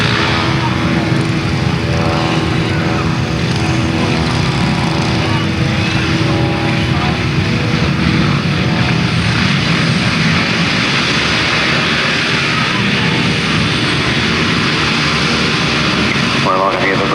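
Grasstrack racing motorcycles sit revving on the start line at a 1991 meeting, a loud continuous engine roar with shifting tones behind a commentator talking over it.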